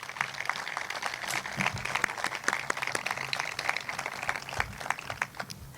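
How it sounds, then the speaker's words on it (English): Steady audience applause fills a groundbreaking ceremony for the San José State golf complex: dense, continuous clapping from a crowd, moderately loud and even, with no talk over it. "one more round of applause for President Martin."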